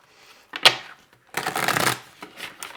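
Tarot cards being shuffled for a general reading: a quick riffle burst, then a longer dense stretch of cards flicking and sliding, followed by softer shuffles, close and clear with no talking.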